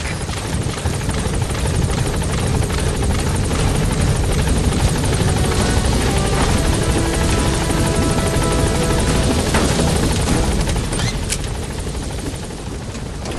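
A military helicopter arrives at a landing zone in Metal Gear Solid V: The Phantom Pain, its rotor roaring loud and steady throughout as a dense, continuous wash of sound.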